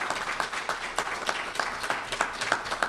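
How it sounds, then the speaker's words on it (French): A seated audience at a 2016 music conference held at a golf club in Berthier applauds, with distinct rapid claps forming a lively, moderately loud patter throughout. "On va les applaudir."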